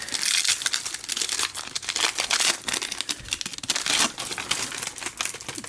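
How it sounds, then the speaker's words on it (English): Stacks of 1993-94 Parkhurst hockey card packs crinkle and crunch as they are handled up close, a dense, continuous run of crisp wrapper rustling with sharper crackles throughout. "you're hearing the crunching of all of these packs that I have here"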